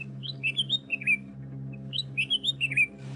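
Many bulbuls chirp and twitter from bushes and thickets in two quick bright bursts of short, sharp notes, moderately close over a faint low hum.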